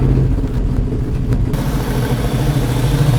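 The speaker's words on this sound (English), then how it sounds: "Starting to sound like a car." A rough junkyard LS car engine runs steadily throughout, a low rumbling idle that grows a bit fuller and louder partway through.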